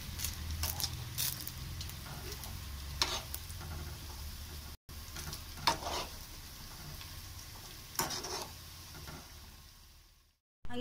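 Chicken unnakkaya fries in a pan with a steady, fairly soft sizzle. Occasional stirring clicks and scrapes break in, and the sound cuts out briefly near the end.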